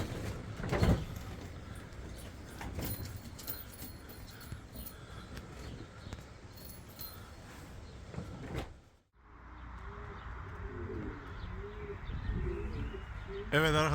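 Pigeons coo softly in a loft, with low throaty calls repeating beneath faint clatter and a door sliding, plus occasional chirps, all at a moderate distance.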